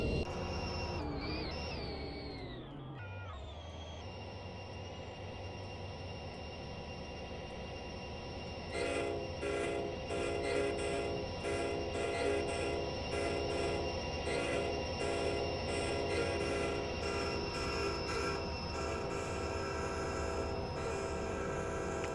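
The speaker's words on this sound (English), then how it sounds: "holy crap, this is a loud locomotive" A passing train with a loud locomotive horn sounding a chord-like blast, heard from a driving cab over a steady rumble and squealing wheels, the horn tones holding throughout alongside rhythmic clatter.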